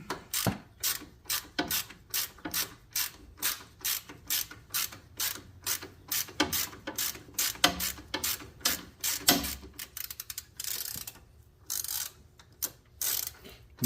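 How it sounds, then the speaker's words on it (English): A ratchet tightens a Torx-head bolt holding a bracket on the front suspension control arm of a Silverado Z71 pickup, with a close, steady run of rapid clicking bursts and brief pauses between strokes. "I'm going to tighten it down to hold this bracket on"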